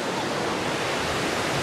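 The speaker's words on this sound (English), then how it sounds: "by the waterfall." A waterfall at a shoals swimming spot on a greenway preserve roars as steady, loud broadband rushing water, close and continuous with no voices.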